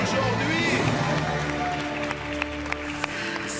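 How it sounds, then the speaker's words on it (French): A studio audience at a French television game show applauds a departing contestant, steady clapping and some cheering over crowd murmur that eases toward the end, with a voice speaking over it. "Je voudrais qu'on applaudisse tellement fort Céline, qui nous quitte aujourd'hui."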